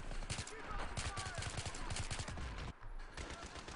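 Sustained automatic gunfire in Battlefield 3, rapid evenly spaced shots hammering on for several seconds, briefly breaking off near the end before resuming, with a voice talking faintly underneath.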